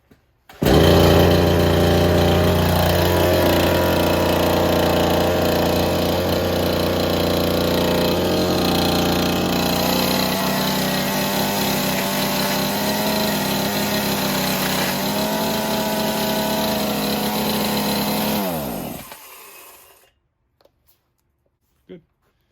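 A two-stroke chainsaw fires up with a short pull and then runs steadily for about eighteen seconds, its buzzing engine loud and close with a slight throttle change midway, before cutting off and falling silent.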